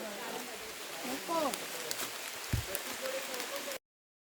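Rain falling outdoors in the Konkan region, a soft, continuous hiss throughout, with a brief voice and a small thump partway through before the sound cuts off.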